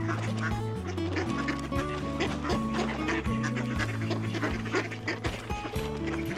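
Ducks call by a lake in Stockholm, with repeated quacking and honking notes overlapping a steady tonal background, fairly close and continuous throughout.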